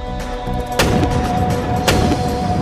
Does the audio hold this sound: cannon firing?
yes